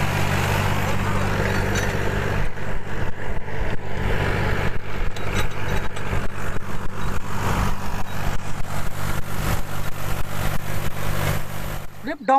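Mahindra 275 DI TU tractor engine running steadily, a low diesel chug and rumble throughout, with someone talking over it for much of the time.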